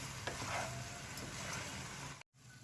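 Chicken pasta stirred in a hot pan over the gas flame, a steady close sizzle with a spoon scraping through it, broken once by a short silent gap.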